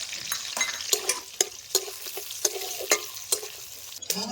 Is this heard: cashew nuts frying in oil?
yes